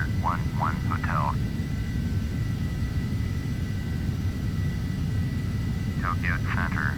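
Embraer jet engines climb in the FSX flight simulator, a steady low drone running throughout, with short radio chirps near the start and end.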